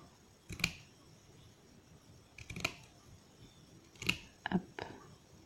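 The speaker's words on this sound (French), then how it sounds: "Puis avec les petits ciseaux." Small scissors snipping paper for a handmade birthday notebook, a handful of crisp separate cuts spaced over several seconds, the last two close together, close and fairly quiet with no talking.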